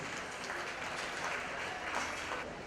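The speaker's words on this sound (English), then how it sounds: "Let's give all four of these exhibitors a big round of applause." Spectators at a county fair 4-H and FFA market lamb show give exhibitors a round of applause, a soft, steady patter of clapping heard from a distance in a large space.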